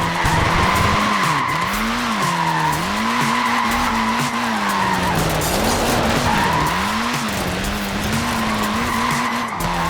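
A Mini's small tyres skidding in Forza Horizon 4: a sustained, wavering tyre squeal over a revving engine note that rises and falls in repeated swells, loud and continuous.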